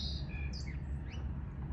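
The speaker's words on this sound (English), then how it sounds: "Sparrow." A sparrow chirps in a few short, bright, sliding calls, fairly close and clear against a low rumbling outdoor background, with no talking.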